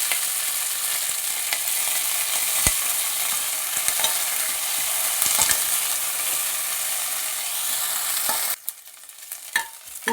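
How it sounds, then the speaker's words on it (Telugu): Curry leaves fry in hot oil in a pan with a steady close sizzle, broken by scraping stirs, until the frying noise drops away near the end. "ఈ కరివేపాకు మొత్తం వేసుకున్నాను కదా, ఇది కొంచెం కరివేపాకు వడలు పడాలి, బాగా వేగాలండి"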